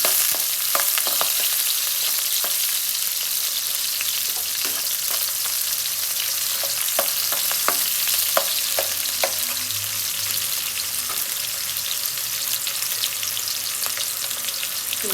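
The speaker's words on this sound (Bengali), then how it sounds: "কড়াইয়ের মধ্যে তেল দিয়ে দিলাম। তেলটা গরম হয়ে গেছে। এখন দিয়ে দিয়েছি পেঁয়াজ," Chopped onions sizzle and crackle loudly in hot oil in a wok, a steady dense frying hiss broken by occasional sharper pops and stirring clinks, close and continuous with no voices.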